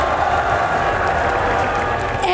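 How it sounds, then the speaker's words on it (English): Esports arena crowd at the VALORANT EWC grand final between 100 Thieves and NRG, a steady wash of cheering and applause filling the hall at close range, continuous and loud throughout with no pauses. "This crowd is absolutely electric."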